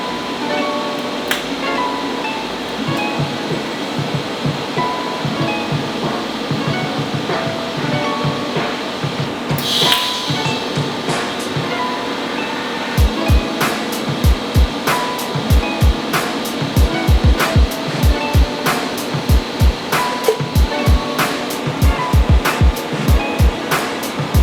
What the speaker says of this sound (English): So let's get to welding.